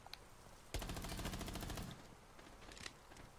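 Automatic gunfire in the video game Rainbow Six Siege: a single rapid, evenly spaced burst of shots lasting about a second, with faint scattered noise around it.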